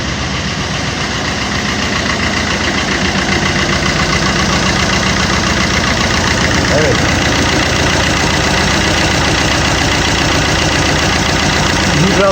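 A silenced Multijet diesel car engine idles steadily and close by, a low continuous rumble with slight knocking texture and vibration throughout, with no speech over it.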